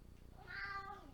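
A domestic cat lets out a single drawn-out meow, fairly close and moderately loud, rising and falling over about a second against a faint low background hum.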